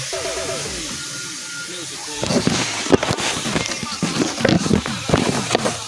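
Masala spices go into a hot pan of cooking food and set off a loud, steady sizzle with crackling pops. The sizzle starts a couple of seconds in after a quieter start, and a voice can be heard around it.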